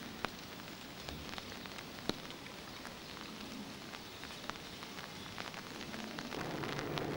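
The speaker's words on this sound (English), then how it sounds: "and it's raining" Rain falls steadily outdoors near Winchester Cathedral and the deanery, giving a continuous soft hiss with scattered sharp drip ticks and a slight swell toward the end, no voices.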